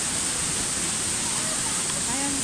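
Tiklas Falls pours down in a loud, steady roar of rushing water that fills the whole moment without letup.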